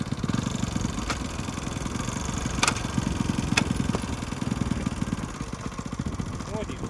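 A small engine of a broken-down vehicle that revs but will not move runs with a steady, throbbing putter close by, punctuated by a few sharp clicks and knocks, and no talking.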